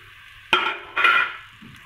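Potato and cauliflower pieces fry lightly in oil in a pan, with two short bursts of sizzling and stirring close by.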